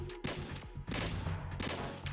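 Gunfire in the video game Metal Gear Solid 2: Sons of Liberty, a close burst of rapid shots crackling in quick succession, loud and almost continuous over a couple of seconds.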